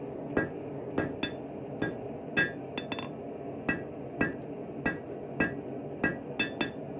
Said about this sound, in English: the first thing I'm going to do is start forging the set down that's going to get pulled out into the blade